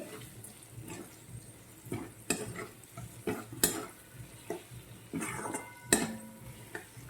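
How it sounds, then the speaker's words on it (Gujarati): A spoon stirs green peas curry in a pan after sugar goes in, giving irregular scrapes and sharp metal clinks against the pan over a faint, low sizzle, with no voices. "તેના પછી આપણે એક ચમચી જેટલી ખાંડ નાખી દઈશું અને બરાબર મિક્સ કરી દેવાનું છે"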